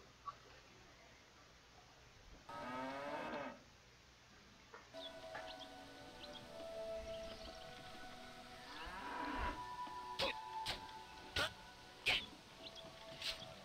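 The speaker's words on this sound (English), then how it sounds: "Guess I can't kill the cow." A cow in the online game Tera moos twice with low, drawn-out calls, set among quieter game chimes and sound effects, with faint voices in the background.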